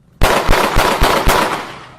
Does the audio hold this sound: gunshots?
yes